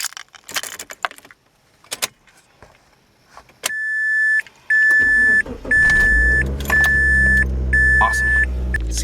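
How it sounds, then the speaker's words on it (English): Car keys jangle and rattle close by as someone settles into a car, then an electronic chime beeps five times in an even rhythm while the engine catches and settles into a low, steady idle rumble. "Step inside, keys in the ignition."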